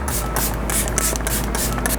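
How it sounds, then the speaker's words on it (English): A close, continuous hiss of makeup setting spray mist, a few short pumps blending into one steady burst lasting about two seconds. "Now I'm going to throw on some setting spray just to melt everything together."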